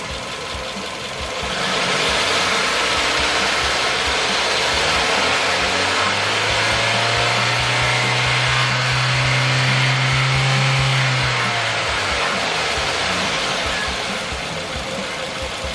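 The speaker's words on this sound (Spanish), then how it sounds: "Vamos a dar un acelerón leve de 0 a 4000 revoluciones y luego a soltar" A car engine idles, then revs up smoothly from idle to 4000 rpm, a sustained high pitch, holds briefly, and drops back down to idle; loud and close, no talking.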